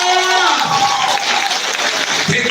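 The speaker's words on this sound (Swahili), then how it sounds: "Wapigeni makofi tena." Audience applause at a graduation ceremony: a steady, dense wash of clapping throughout, with a faint tonal hum underneath.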